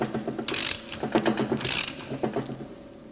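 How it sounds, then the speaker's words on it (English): A bush replacement tool winds a bush into a Meritor brake caliper housing, giving close, repeated ratcheting clicks with two sharper metallic bursts of winding, heard alone. "Using the bush replacement tool, wind in the bush until it stops."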